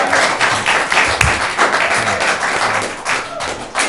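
Applause at a parks and recreation commission meeting, a brief burst of clapping from a small room of attendees, steady and fairly close for a few seconds with a dull thump partway through.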